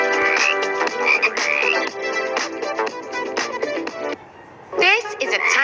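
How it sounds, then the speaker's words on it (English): Tiny frog in a home rainforest terrarium croaking loudly and repeatedly in quick, rattling bursts close by, with a brief lull before the calls resume. "This is a tiny frog"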